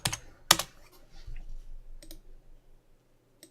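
Several crisp computer keyboard keystrokes, a sharp pair of clicks up front and a few softer taps trailing off, heard up close with no talk.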